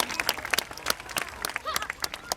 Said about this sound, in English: A nice big round of applause for them.